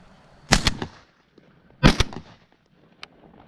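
Two shotgun blasts at a morning dove hunt in Texas, a loud sharp shot followed by another about a second later, each with quick echoing tails, then a faint click.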